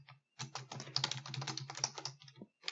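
Rapid, steady typing on a computer keyboard while entering text into an Excel spreadsheet, a close, continuous run of clicking keystrokes that pauses briefly at the start and near the end.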